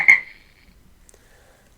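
A single short frog croak sounds loud and close at the start, then fades into near silence with a faint click afterward.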